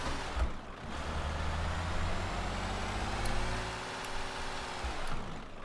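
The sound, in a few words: Mitsubishi Lancer Evolution engine straining in Euro Truck Simulator 2 video game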